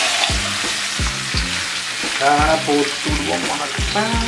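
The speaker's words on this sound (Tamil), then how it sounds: "இப்போ எண்ணெய் கொதிச்சுட்டு நான் இப்போ மீனை இதுக்குள்ள பொரிக்க போகிறேன்" Loud, steady sizzling of a whole fish frying in hot oil, with rhythmic low thumps and a brief voice speaking over it.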